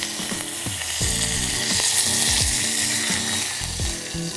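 Curry leaves crackle and sizzle loudly in hot oil with cumin and asafoetida for orange peel pachadi, with sharp pops and spits bursting repeatedly over a continuous frying hiss.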